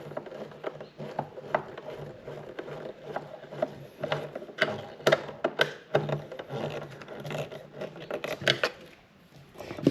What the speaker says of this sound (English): It's a nice little Torx screwdriver to do this.